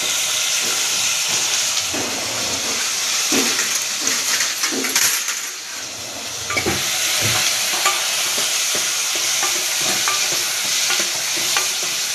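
Peas and potatoes fry in oil in a pan, a loud continuous sizzle and hiss broken by repeated scraping and stirring strokes, close up with no talk.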